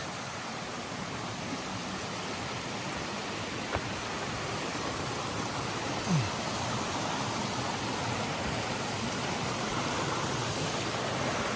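Bromley Brook's running water gives a steady, even rush with no pauses, spread broad and close for the whole stretch, with a faint brief tap partway through and no talking.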